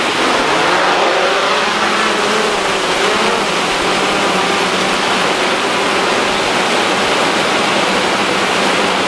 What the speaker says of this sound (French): C'est juste pour filmer cette petite cascade là.